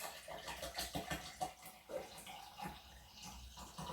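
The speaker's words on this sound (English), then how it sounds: "Right, so I'm going to literally just pour," Still bottled water is poured from a bottle into a container for homemade pizza dough, a soft continuous splashing trickle that swells and fades unevenly at close range.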